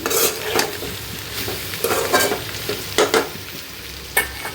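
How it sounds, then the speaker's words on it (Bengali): A spatula stirs a spiced fish curry with chopped green chilies and salt in a pan, producing loud, irregular scraping strokes over a steady sizzle, close and clear with no talking. "এখন নাড়াচাড়া করে ঢেকে দেই"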